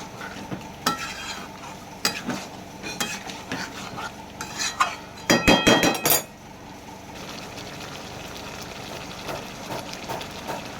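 Chicken pieces and potatoes cooking in a pan with no added water, stirred with a metal spoon: scattered scrapes and clinks over a faint sizzle, building to a busy cluster of clatter midway, then quieter.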